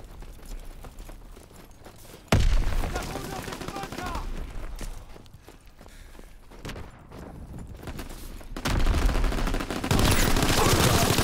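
Gunfire in the World War II shooter Call of Duty WW2: bursts of rapid shots and explosive blasts come in loud waves, with quieter stretches of footsteps and game voices between them.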